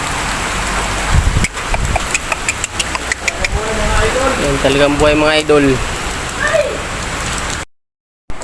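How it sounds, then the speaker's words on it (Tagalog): Heavy rain pours down in gusty bursts, a dense, loud, steady hiss with an engine idling underneath and someone talking over it. "Ayan, ang lakas na naman ng ulan. Pabugso-bugso."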